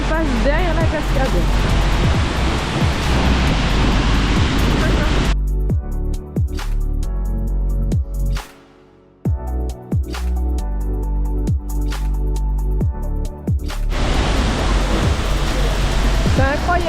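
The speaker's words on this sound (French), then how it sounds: "C'est incroyable le bruit que ça fait la descente de l'eau, la chute d'eau." Roar of an Icelandic waterfall heard from behind the falls, a loud, dense broadband rush that thins briefly in the middle before the full wash returns.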